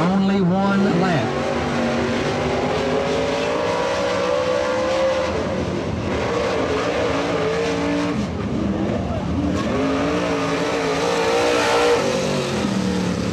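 Race car engine roaring steadily through a single qualifying lap at Atomic Speedway, a dirt-track style oval, with pitch rising and falling through the turns and a brief wobble exiting turn four, under a track announcer's running commentary.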